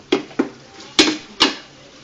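Four distinct metallic clinks of a utensil against a pan while spaghetti is mixed, two lighter taps followed by two sharper knocks, close and clear in a quiet kitchen.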